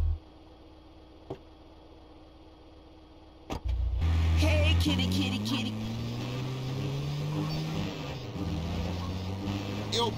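In GTA San Andreas a car engine roars up after a few faint knocks, revving and accelerating loudly with rising pitch, close and continuous, as voices speak over it.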